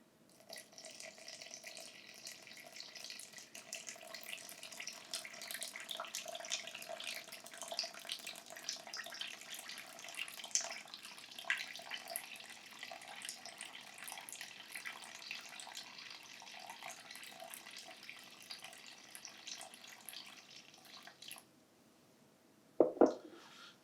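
Steady running warm water pours from a tap for about twenty seconds for sourdough focaccia dough, then stops, followed by a brief clunk.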